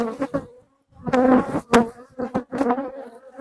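Honeybees hum and drone in uneven bursts close by while an October hive inspection goes on, the buzzing rising and dropping as the insects move around.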